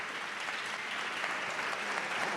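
An audience at an artists' roundtable gives a sustained round of applause, even and continuous clapping with no voices over it.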